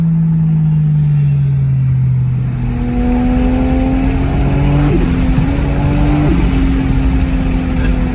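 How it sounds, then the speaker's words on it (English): Single-turbo 1JZ Toyota Soarer on the move, loud engine drone under acceleration with rising pitch, a gear change, and brief exhaust pops cutting through near the middle and later. "I can get the exhaust to make a pop sound"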